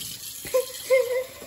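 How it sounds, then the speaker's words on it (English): Water from a tap runs into a jar being filled three-quarters full, a steady close trickle with a couple of brief louder gushes. "Fill a jar 3/4 full with water."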